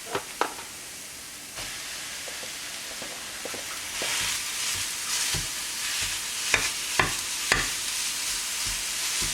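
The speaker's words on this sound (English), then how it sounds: "You just want to break up the mince" Ground mince frying in a pan while being broken up for gozleme: a steady loud sizzle with intermittent scraping and stirring knocks of a utensil against the pan, close up.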